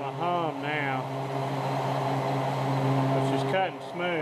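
A machine cutting an 8620 steel billet cam blank, held in a steadyrest, runs with a smooth, steady hum that holds evenly throughout, with a few brief wavering tones near the start and end.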